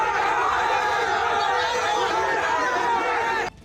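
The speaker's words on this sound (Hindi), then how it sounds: "अस्पताल के बाहर लोगों की भीड़ जमा होने लगी।" A crowd gathers outside a hospital, a dense, loud hubbub of many overlapping voices and chatter that stays steady throughout, then cuts off abruptly near the end.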